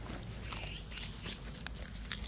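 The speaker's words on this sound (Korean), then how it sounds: "아주 잘 먹는구나. 정어리를." Dog eating sardines, with close, wet crunching and chewing bites over steady background noise, no voices heard.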